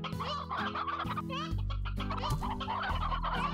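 Several hens cluck in the video game Slime Rancher, with overlapping bursts of clucking and squawks from a nearby flock, busy and continuous.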